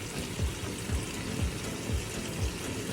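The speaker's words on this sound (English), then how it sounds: "In goes the spaghetti sauce." Thick spaghetti sauce glugging out of a jar into a pan of cooked beef and vegetables, a soft wet pour with regular low plops about every half second, steady and close.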